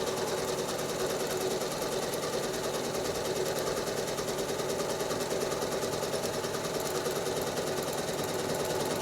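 A sewing machine stitching quilting lines on a four patch block, running steadily at a fast even pace with a rapid mechanical whirring hum that stays constant throughout, close up and without talk.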